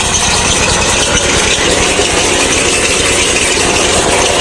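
Zhmerynka conveyor potato digger, a machine in its sixth year of use, running steadily while digging potatoes, a continuous loud engine drone with rattling and vibration, with no voices.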